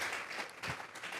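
Church congregation applauding together, a broad steady wash of clapping lasting just over a second at moderate, distant level with no speech.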